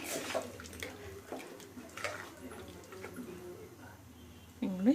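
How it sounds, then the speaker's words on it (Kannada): Water pouring steadily into a pot of mutton sambar masala, with a soft splashing wash, close by and fairly quiet, with a brief louder clatter at the end. "ಈಗ ನೋಡಿ ನೀರು ಆ್ಯಡ್ ಮಾಡ್ಕೊತೀನಿ"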